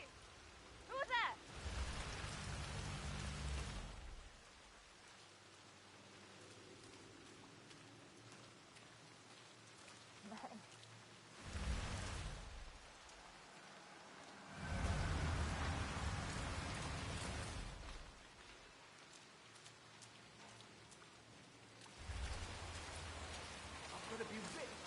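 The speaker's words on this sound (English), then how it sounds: "I'm never going out in the rain again." Rain falls in a video game, Hitman 3 on PS5, in repeated heavy bursts that swell and fade, with quieter stretches between and a faint tone in the background.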